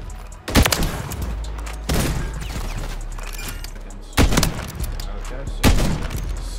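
Call of Duty gunfire, four loud, widely spaced shots or short bursts that ring out over a humming game background.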